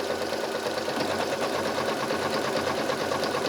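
A sewing machine stitches a buttonhole in a fast, continuous, even mechanical whir with rapid ticking, steady and fairly quiet, alone without talk.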